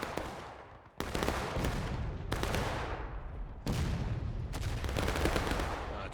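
Rifle fire in War of Rights, a Civil War multiplayer game, with the 12th Virginia advancing along a road: three or four loud, sharp cracks, each followed by a long, rumbling echo that fades out.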